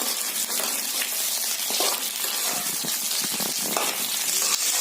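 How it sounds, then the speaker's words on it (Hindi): Cauliflower and potatoes hiss in a pan of golden fried onions, a loud, continuous sizzle with scraping stirs breaking through it. "अब हम इसमें फूलगोभी और आलू डाल देंगे। इसे अच्छे से मिक्स कर देंगे।"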